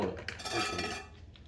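A bowl and a pan being handled to catch oil during a lawn mower oil change, making a brief clatter and metallic clink up close, alone and fairly soft.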